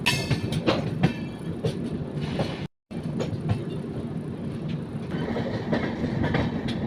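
A superfast express train between Vijayawada and Rajahmundry rumbles steadily along the rails, with rhythmic clickety-clack wheel beats and continuous carriage rattle heard from inside, briefly cutting out before resuming.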